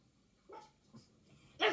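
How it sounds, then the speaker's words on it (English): Dogs bark somewhere nearby: a few short barks spaced out over a couple of seconds, the last one loudest, with quiet gaps between them and no talking. "Dogs are going to start doing me head in now."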